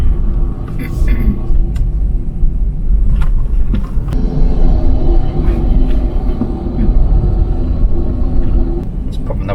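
A Next Gen Ford Ranger is driven at speed with a window down, giving a loud, constant roar of wind and road rumble with a few brief knocks.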